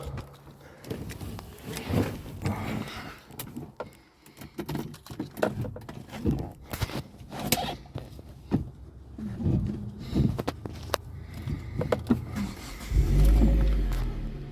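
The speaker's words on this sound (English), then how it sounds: "Nice sound to the exhaust, not overly loud, but it has got a nice rev to it" A 2008 Hyundai Coupe S3 with a 2-litre engine starts and revs repeatedly, its exhaust rumbling in uneven bursts close by before a heavier, sustained rev near the end.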